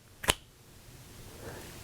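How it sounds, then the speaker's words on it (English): A single crisp finger snap rings out near the start during a rubber band magic trick, followed by quiet room tone. "Just by snapping my fingers"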